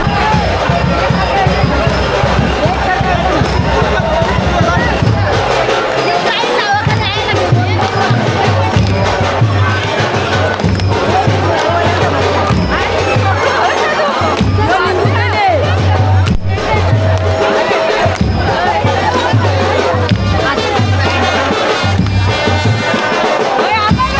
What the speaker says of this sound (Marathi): आता परत जल्लोष चालू होणार आहे बघा